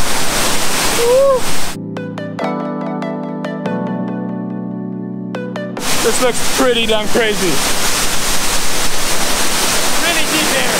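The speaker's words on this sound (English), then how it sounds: "The twin waterfalls." Twin waterfalls in Bohol, Philippines roar in a steady loud rush, broken midway by a few seconds of music, while people talk excitedly over the water.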